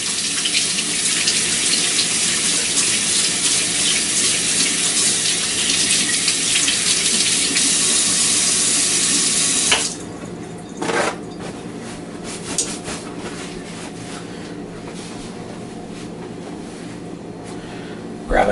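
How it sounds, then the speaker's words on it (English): Hands are washed under a running kitchen tap while baking chocolate chip scones. A loud, steady gush of water runs for about ten seconds and then stops abruptly, leaving quieter kitchen sounds and a few faint clinks. "so I'm gonna wash my hands real quick"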